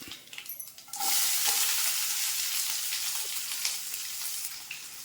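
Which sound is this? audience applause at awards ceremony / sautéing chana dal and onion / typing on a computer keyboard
sautéing chana dal and onion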